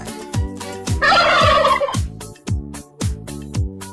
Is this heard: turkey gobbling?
yes